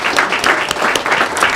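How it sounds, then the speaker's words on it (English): Steady applause from a seated audience at a school board of education meeting honoring educators, dense clapping held at an even level throughout with no voices over it. "So just another big round of applause to all of these outstanding educators."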